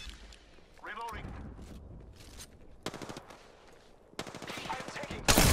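Bursts of video game gunfire come in short, loud volleys separated by pauses, with a final sharp blast at the end, while a person talks over the action.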